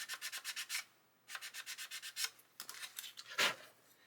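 Small skinny sanding stick rubbed over plastic parts of a 1/32 scale Hurricane Mk.IIb model aircraft, quiet close bursts of quick back-and-forth rasping strokes separated by short pauses.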